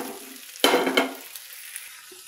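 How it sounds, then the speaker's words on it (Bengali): Fried eggs being stirred into an egg and eggplant curry in a pan, a sudden scraping clatter followed by a short sizzling rush that fades to a soft hiss, with one small tap near the end. "এবার মেলাবো ভেজে রাখা ডিমগুলো।"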